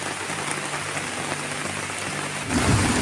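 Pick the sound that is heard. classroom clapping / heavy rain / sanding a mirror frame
heavy rain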